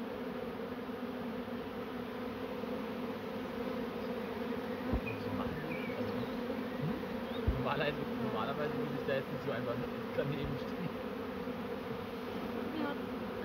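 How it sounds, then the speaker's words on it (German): A swarm of honeybees gives a steady, dense buzzing drone close around, with scattered sharper buzzes passing near, under a person speaking German. "Also Bienen im Schwarmtrieb sind total friedlich."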